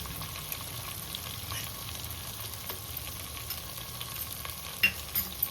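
Onions and chili powder are stirred in a frying pan for biryani, a continuous moderate sizzle with occasional spoon scrapes and a few sharper clinks near the end.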